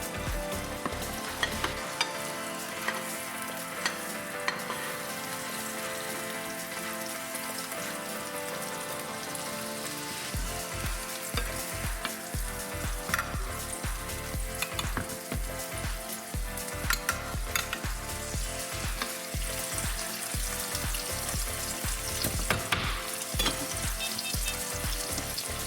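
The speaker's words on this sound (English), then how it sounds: "We're going to add a little bit of oil from the baked turkey to our saute" Oil from baked turkey sizzling in a sauté pan, a steady frying hiss with dense crackle and stirring that builds after a quieter start, close and continuous with no talk.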